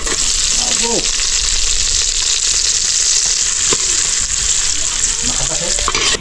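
Garlic and onion sauté loudly in hot oil for clam adobo, a dense continuous sizzle close up with occasional utensil scrapes and faint background voices.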